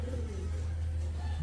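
An ice pigeon coos softly at close range, a short low rolling call over a steady low hum.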